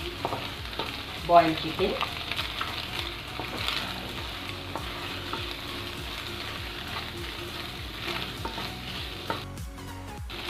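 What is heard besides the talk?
green chili, ginger and garlic stir-frying in a pan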